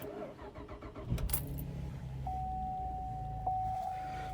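A car engine with its check engine light on cranks briefly after a click, then catches and settles into a steady idle with a thin whine above the hum.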